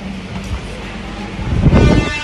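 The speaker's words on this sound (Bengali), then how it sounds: "আপাতত 5 উঠে পড়েছি, ট্রেনটাও তো ছেড়ে দিয়েছে" A local train pulling out of a station, a rumbling, rattling rolling noise with wind buffeting that grows louder as it gathers speed, heard from on board.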